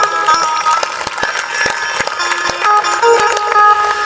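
An audience at a Shrimad Bhagavat Katha religious discourse claps loudly and steadily for the young people present, the applause mixed with music or amplified tones.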